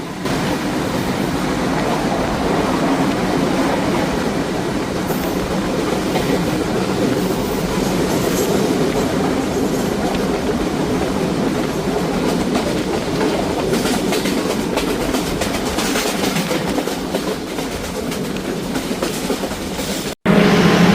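The Banalata Express roars through Chatmohar railway station in Pabna district, heard from on board as a loud, continuous rumble with rhythmic clickety-clack over the rails.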